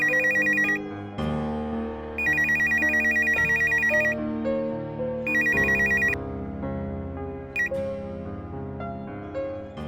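A telephone rings in repeated electronic bursts over a musical background, loud and close, with pauses between the rings.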